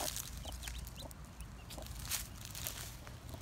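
Newly hatched chicks huddled together, peeping in soft, high, overlapping cheeps under a low background hum, fairly faint and close.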